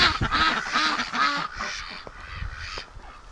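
Breeding ducks quack in a few short nasal calls close by in a barn setting, the sounds bunched early and thinning out toward the end.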